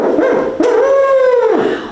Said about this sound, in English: One for barred owls, sounds like this.